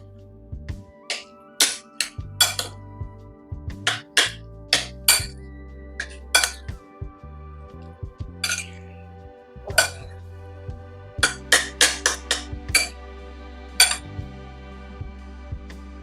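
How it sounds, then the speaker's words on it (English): Spoon or utensil clinking repeatedly against a bowl while stirring chicken loaded potatoes, with irregular bursts of sharp clatter and short pauses, close and fairly loud, with no talk. "just mixing this through"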